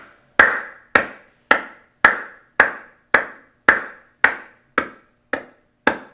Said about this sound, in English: one person clapping